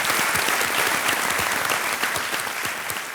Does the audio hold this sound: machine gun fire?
no